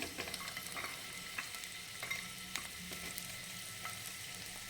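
Cardamom and ginger hit hot oil for a paneer dish, giving a steady close sizzle with crackling pops and faint stirring scrapes throughout.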